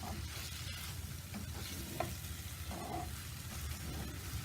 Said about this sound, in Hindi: अब इसमें टमाटर ऐड कर देंगे।